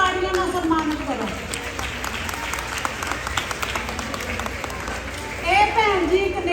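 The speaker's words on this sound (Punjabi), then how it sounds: "ਉਹਨਾਂ ਨੂੰ ਪਲੀਜ਼ ਤਾੜੀਆਂ ਨਾਲ ਸਨਮਾਨਿਤ ਕਰੋ।" An audience at a Teeyan da Mela festival in Live Oak, Gridley, applauds to honor Samrinder Kaur Takhar. The steady clapping runs throughout, with voices and chatter mixed in and a louder swell near the end.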